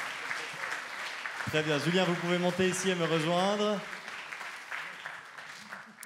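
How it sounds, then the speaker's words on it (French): Audience applause rises at an award ceremony for the 2022 New Economy Prize in the town of Gland as winners come up on stage. A steady wash of clapping runs beneath a voice speaking over a microphone. "Vous pouvez applaudir jusqu'à ce qu'ils arrivent sur scène."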